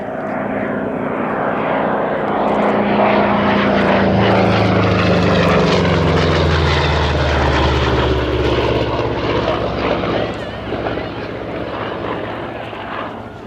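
A P-47D Thunderbolt propeller fighter flies past, its piston engine droning loud and steady, with the pitch sliding downward as it passes and fades slightly at the end.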